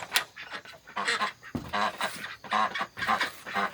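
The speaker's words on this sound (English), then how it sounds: "Okay, I've released the quacking." A group of ducks released from a snake-proof duckling cage quacks loudly and repeatedly, overlapping honking calls coming in close, busy bursts.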